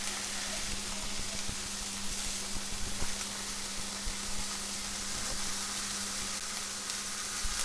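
Steak sizzles in a hot pan, a dense continuous crackling hiss that stays loud and even throughout, with no voices over it.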